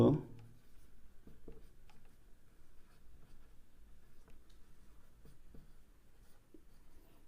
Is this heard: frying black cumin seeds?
no